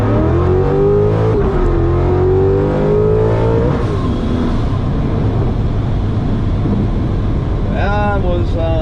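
A supercharged 416ci 2017 Corvette Z06 accelerates hard from first into second gear. Its loud, rising engine roar drops sharply at the shift, then climbs again, with someone talking over it from inside the car.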